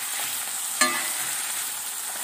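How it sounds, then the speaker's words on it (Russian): Meat cutlets sizzle steadily in a frying pan, a bright continuous hiss with one sharp clatter partway through, with no voices. "Обжариваем с двух сторон буквально по 2 минуты."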